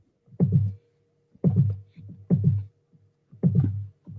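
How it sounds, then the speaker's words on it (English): A heartbeat-like throbbing noise picked up on a podcast recording pulses in four slow, low thuds about a second apart, each a muffled double beat, alone against near silence. "It's someone's heartbeat or something"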